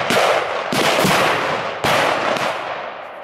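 New Year's Eve fireworks bang loudly close by, with sharp blasts followed by crackling, hissing bursts that carry through the clip.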